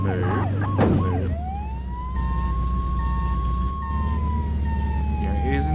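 A wailing emergency vehicle siren in the Flashing Lights video game, one long rising and falling tone over a steady low engine hum, with brief clicks and clatter at the start.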